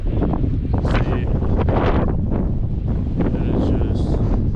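Strong wind buffets the microphone continuously while someone walks through brush beside lakes in Alaska, a loud roaring rush with gusts swelling throughout, and a voice speaks briefly under the noise.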